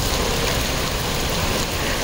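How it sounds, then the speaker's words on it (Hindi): Heavy rain pours down as a dense, steady roar of broadband hiss without any break, loud and close throughout, with no voices heard. "माय गॉड इतनी तेज बारिश"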